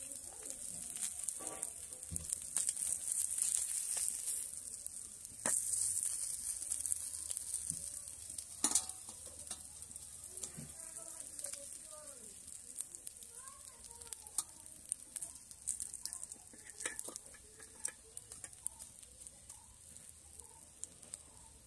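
Pieces of pond kou fish fry in hot oil, giving a steady, moderately quiet sizzle with scattered sharp pops and crackles that carries on unbroken for the whole stretch, with no talking over it.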